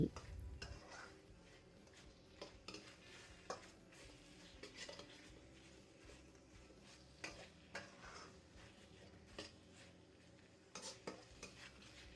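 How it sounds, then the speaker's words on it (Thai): Continuous scraping and clattering of a utensil stir-frying chicken in a pan, with light sizzling underneath and occasional metallic knocks throughout. "ผัดไปเรื่อยๆ จนกว่าเนื้อไก่จะสุก"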